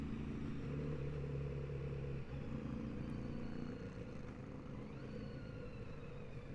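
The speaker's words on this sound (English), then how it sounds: "I'm doing this all with strictly engine braking" A Kawasaki Z900RS motorcycle engine braking, a low steady drone with falling engine tones that gradually ease as the bike slows, heard alone without talk.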